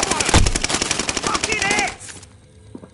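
Rapid bursts of automatic gunfire from a military shooter video game rattle loudly for about two seconds, dense and continuous, then cut off to quieter background with a faint later shot.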